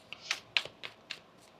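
Tarot cards being shuffled and handled by hand: five crisp, separate taps and slaps in quick, uneven succession, quiet and close, with no voices.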